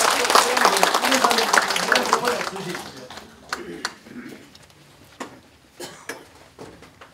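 Audience applause at an association's annual delegates' meeting, welcoming a newly elected branch head: dense, steady clapping for about three seconds that thins into scattered claps and room noise.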